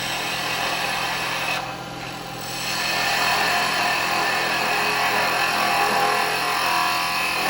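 A spindle gouge cuts a turning wood piece on a lathe, giving a continuous, loud, rough scraping hiss over the motor's hum, with one brief softer dip, no speech.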